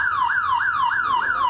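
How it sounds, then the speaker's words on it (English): A house alarm set off on purpose at a home on Peach Avenue in Van Nuys wails in a loud, continuous rising-and-falling siren, repeating about every 0.3 seconds with no voices. "if it wasn't the horn, it was his house alarm, also intentionally set off"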